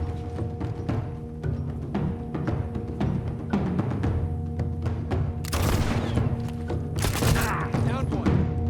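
Burst pistol fire in The Last of Us, with rapid clusters of sharp shots and thuds over game background, a louder volley near the end, while a voice talks throughout.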